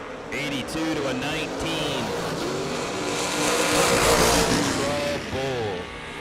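A drag-racing pickup truck's engine roars down the dragway strip in a loud, sustained run that swells and eases, with a commentator's voice talking over it.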